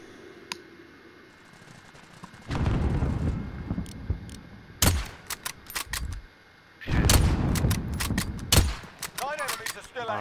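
Gunfire in the Warzone video game: bursts of rapid shots and sharp single cracks, loud and close, with louder firefights in the middle and end of the stretch.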